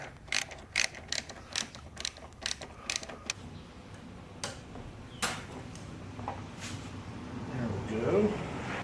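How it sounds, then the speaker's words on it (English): Carburetor mounting bolts come off a Toro lawn mower during repair, heard as a series of close, quick ratchet clicks in short bursts, with faint handling noises between them. "now time to take the carburetor off"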